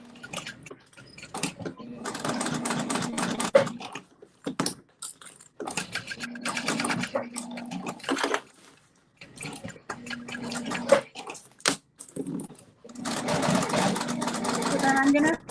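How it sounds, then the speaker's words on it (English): Sewing machine stitching fabric for a Triskele wallet, running in several bursts of steady mechanical whirring separated by short pauses, close and fairly loud, with a person talking in between. "So then I'm gonna sew down across some of my stitching"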